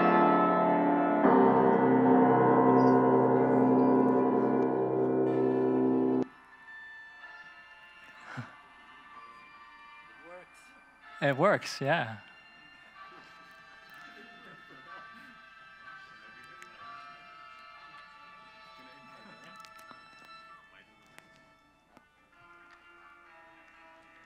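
A MIDI file of fifteen instruments streamed over HTTP/3 plays loud layered synthesized music for several seconds, then cuts out, leaving faint scattered tones, clicks and a short voice.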